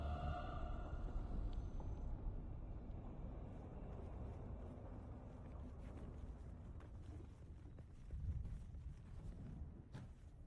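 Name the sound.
sandstorm wind in Dune: Awakening video game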